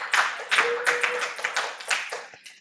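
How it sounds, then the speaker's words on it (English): A small audience in Toronto claps at a speaker series, a burst of uneven hand claps in several swelling waves, close and lively, with no speech over it. "Everyone in Toronto want to clap?"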